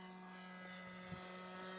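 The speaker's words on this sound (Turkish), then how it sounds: "uçan bu uçak" A Piper Cherokee propeller airplane flies overhead, its steady propeller drone humming throughout, an even mechanical tone with no pauses, fairly faint and constant over the whole stretch.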